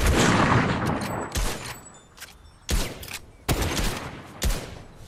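Assault rifle gunfire in Fortnite, close and loud bursts of rapid shots followed by several separate sharp single cracks and bursts with short gaps between them, no talk over it.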